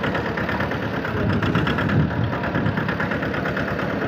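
A loaded tractor hauling a trolley of harvested maize along a rough road, its mid-pitched diesel engine chugging steadily and loudly up close with a rough, knocking rhythm and constant vibration.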